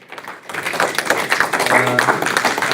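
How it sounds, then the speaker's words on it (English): A brief round of applause at a school district board meeting, scattered claps building into a steady patter after a quiet start, with faint voices murmuring underneath. "A little round of applause"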